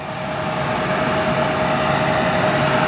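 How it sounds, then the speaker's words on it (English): An Airbus A340 jet taxiing at O'Hare airport, giving a steady, loud engine roar with a constant whine that holds evenly throughout, near and with no voices. "We do have our A340 currently taxiing through the penalty box here at O'Hare."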